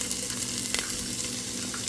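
Garlic frying in olive oil in a kitchen pan, giving a steady, close sizzle with a soft watery crackle and a low background hum, with no voices.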